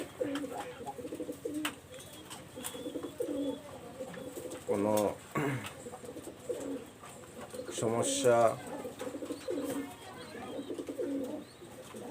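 Teddy pigeons in a breeding loft give low, throaty cooing in a couple of rolling bursts, close by, while someone talks over the birds for much of the time.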